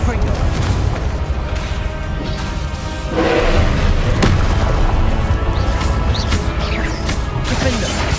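Confringo spell blasts in Hogwarts Legacy, a loud crashing explosion landing about midway through a busy stretch of battle noise, with thuds and smashes around it and a voice talking over the fight.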